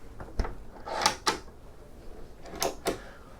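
A fridge or freezer drawer opens aboard a Hardy 50 motor yacht, with a few sharp clunks and slides over a steady background hum and no talking.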